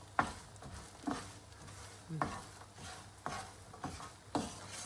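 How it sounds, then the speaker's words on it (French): Almonds being stirred with a utensil in caramelizing sugar for Christmas praline, soft scraping and rustling strokes repeating about once a second with a faint sizzle underneath, quiet and close, no talking. "vous restez bien derrière et vous mélangez sans cesse"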